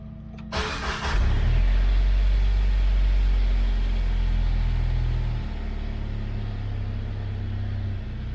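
A car with a modified exhaust cranks and fires up, then settles into a loud, steady low droning idle that eases slightly toward the end, heard close with no talking.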